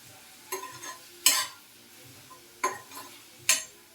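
Leafy greens frying in a pan for a Hyderabadi dhaba-style paneer gravy, heard as a quiet low sizzle broken by several sharp scraping stirs of a spatula at irregular intervals.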